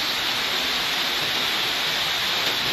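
Steady, dense hiss of heavy rain pouring down, loud and continuous with no breaks, like a downpour close by.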